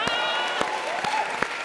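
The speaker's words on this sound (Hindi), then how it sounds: "ठोको ताली" Studio audience clapping on a Hindi comedy show, a brief burst of applause with a few sharp claps standing out over a steady patter, with a tonal sound layered underneath.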